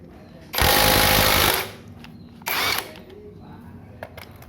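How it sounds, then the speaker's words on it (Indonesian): A SUNS impact wrench loosens a front wheel axle bolt with a loud, close hammering burst of about one second, then a shorter second burst, followed by a few faint clicks. "Ini kita coba buat buka baut as roda bagian depannya."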